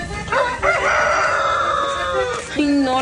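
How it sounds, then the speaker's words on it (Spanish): A rooster crows in one long, loud, drawn-out cock-a-doodle-doo close to the microphone, followed by a short second call at the end, with no talk over it. "gallo."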